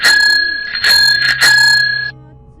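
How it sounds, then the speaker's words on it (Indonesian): A bicycle bell rings loudly and close, three bright metallic bursts in quick succession, then it fades to quiet. "tiba-tiba pas di satu channel terdengar suara bel sepeda"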